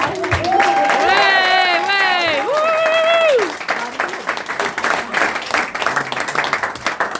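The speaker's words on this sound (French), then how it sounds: "On peut applaudir Robert qui a participé" Applause and clapping fill a comedy show, loud and steady at first under a strongly singing or shouting voice with harmonics, then easing into scattered clapping and crowd murmur for the remaining seconds.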